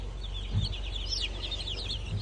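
A flock of meat chickens in brooders clucks and chirps softly on an Australian homestead, overlapping calls over a steady low background hum.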